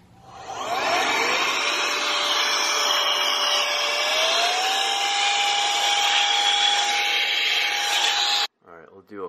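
An electronic compressed air duster blows hard at caked-on dust under a cabinet, a loud steady high whine that ramps up and holds for about eight seconds before cutting off abruptly.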